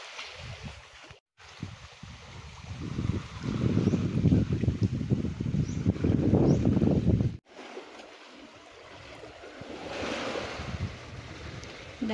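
Ocean waves of clear sea wash and surge steadily, loud and close, with gusts of wind buffeting the microphone.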